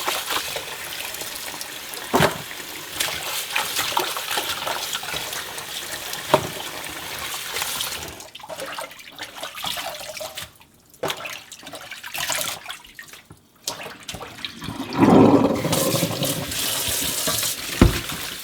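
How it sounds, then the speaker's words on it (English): A tap runs into a sink during a wash-and-drain step in Korean kimchi making. The water splashes and trickles unevenly, with pauses and handling noises, and a louder gush comes near the end. "Wash and drain 3 times."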